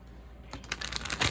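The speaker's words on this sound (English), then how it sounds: "Shuffling these cards, her decks are great because she does give you such a nice size volume." A deck of oracle cards being shuffled up close, with a soft start followed by a run of crisp, rapid papery riffling clicks that grows louder toward the end.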